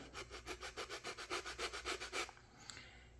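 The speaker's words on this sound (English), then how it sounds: "So what I'm going to do is I'm going to sand these in" Rhythmic back-and-forth sanding on the wooden false stem of a Model Shipways dory model boat, about a dozen even close strokes that stop near the end, leaving quiet.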